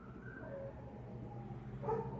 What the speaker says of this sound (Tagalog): Ang ingay ng aso guys.